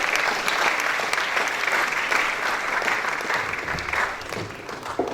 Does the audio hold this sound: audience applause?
yes